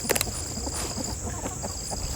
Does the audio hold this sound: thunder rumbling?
no